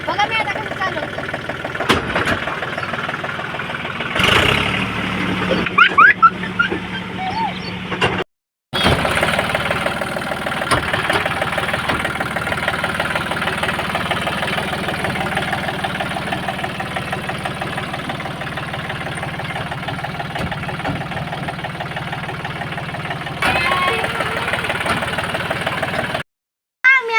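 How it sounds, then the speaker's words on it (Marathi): A tractor engine runs on a farm near a farm pond, a steady, close mechanical drone with some knocking and a brief gap, and voices are heard at times over it. "मी ट्रॅक्टरवर बसलेलो आहोत. बघा मी आता कसं चालवतो."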